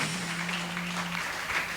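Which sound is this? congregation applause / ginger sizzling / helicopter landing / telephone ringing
congregation applause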